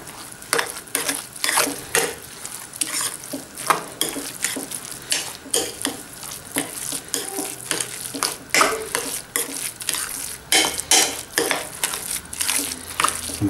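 Rice being stirred together with rocket cream (pesto di rucola) in a pot for rice balls, a steady run of scraping, clacking utensil strokes against the pot, close and fairly loud, continuing without pause.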